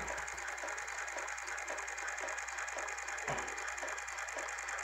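A homemade magnet motor built from a PET bottle running, giving a fast, even mechanical ticking like a ratchet that repeats steadily throughout, close and fairly quiet.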